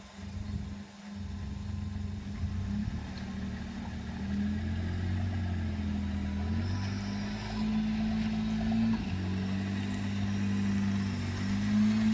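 A car engine idles and hums steadily up close during a reverse parking lesson, its low drone rising slightly as the accelerator is pressed, with no talk over it.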